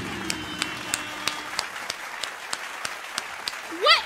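Clapping for a Fortnite squad during custom games: sharp, evenly spaced claps repeat steadily under a low murmur, closing with a short rising whistle-like sweep.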